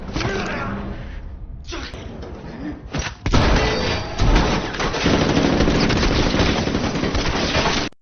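Heavy gunfire in an action film scene, loud and close, with sustained bursts and booms filling the soundscape after a brief lull, layered with dramatic noise and possible dialogue.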